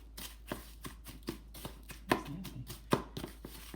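Quick, faint rhythmic taps and clicks as a Worcestershire sauce and sugar marinade is stirred and mixed in a bowl, roughly two strokes per second.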